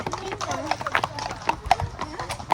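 Horse hooves clip-clop in a quick, uneven rhythm close by, with people talking over them outdoors at a car gathering.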